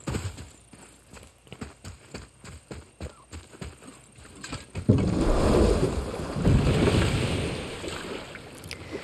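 A boat glides across a lake in God of War: rhythmic wooden knocks and oar strokes come first, then a louder rush of water and hull noise swells as it picks up speed, with no talk.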